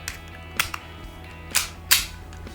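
A Retay 84FS blank pistol fires a string of sharp, loud cracks at uneven intervals, with short quiet gaps between shots and no talking.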